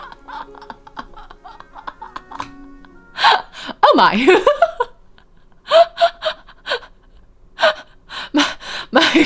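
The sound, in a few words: startled gasp, from a video game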